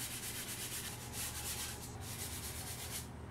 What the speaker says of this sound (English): I got a little 80 grit here. Let's work on it with this.